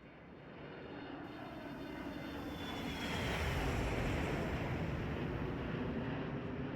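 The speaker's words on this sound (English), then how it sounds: "I'm gonna bump the sound volume of the jet" A Boeing 737-300 jet in the IXEG flight simulator passes in a flyby, its engine roar and whine swelling steadily louder, broad and steady with no talking.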